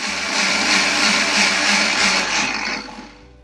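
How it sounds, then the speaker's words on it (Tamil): Mixer grinder blending carrot, milk and sugar, a loud steady whirring motor for about two and a half seconds that then winds down and fades. "இப்போ எல்லாத்தையும் மிக்சியில் போட்டு அரைச்சிக்கலாம்."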